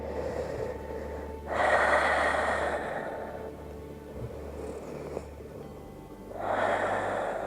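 Breathing from someone holding a yoga locust pose: slow breaths close to the mic, a few loud, airy exhales spaced several seconds apart, with soft quiet gaps between them.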